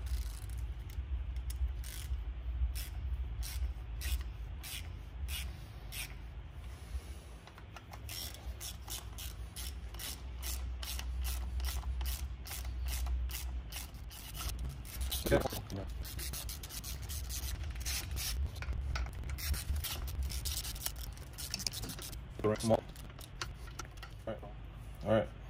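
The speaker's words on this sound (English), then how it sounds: "And just grab a 12mm socket." A 12mm socket wrench ratchets repeatedly while nuts are tightened during a Land Cruiser front axle reassembly, with rapid clicking bursts over a low background rumble and occasional metal knocks.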